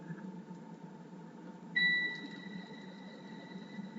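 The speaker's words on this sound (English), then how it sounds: "Then I did another test with actual recording of my oven preheating" A single electronic beep sounds from an oven preheating over a low steady hum, with a faint tone lingering afterward.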